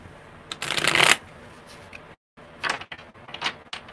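A tarot deck is shuffled up close, with a loud riffling burst followed by shorter bursts and taps of cards being handled.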